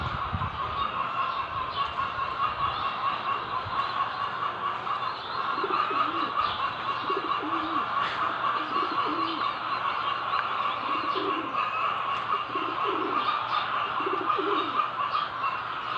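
Pigeons cooing in soft repeated low calls while pecking at salt, several phrases spaced apart, over a steady background hum and faint chirps.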